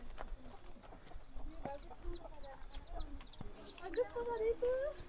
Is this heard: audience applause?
no